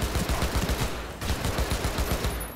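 Rapid gunfire in Cyberpunk 2077, a dense run of close, steady automatic shots filling the whole stretch with no talking.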